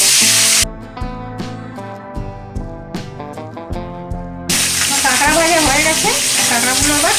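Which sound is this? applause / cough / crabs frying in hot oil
crabs frying in hot oil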